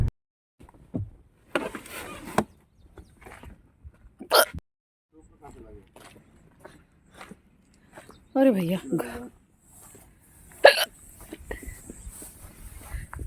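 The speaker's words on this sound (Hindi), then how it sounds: "मुझे हिचकी आ रही है" A person walking through overgrown grass in a garden gets the hiccups, giving several sharp, abrupt hiccups spaced apart amid casual conversation and outdoor background sounds.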